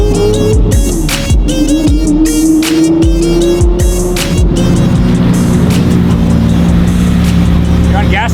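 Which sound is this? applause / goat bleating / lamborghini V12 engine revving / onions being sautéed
lamborghini V12 engine revving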